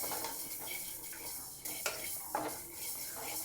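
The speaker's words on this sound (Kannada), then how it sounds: "ಇದನ್ನು ಅಷ್ಟೇ ಚೆನ್ನಾಗಿ ಬಣ್ಣ ಬದಲಾಗೋ ತನಕ ಸಣ್ಣೂರಿನಲ್ಲೇ ಚೆನ್ನಾಗಿ ಹುರಿಬೇಕು" Fenugreek seeds roasting over low heat in a pan for mango chutney, stirred with a utensil that gives soft scraping and a few sharp clinks against the metal, close and steady, with no talk.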